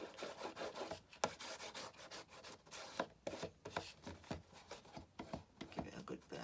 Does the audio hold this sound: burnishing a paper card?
yes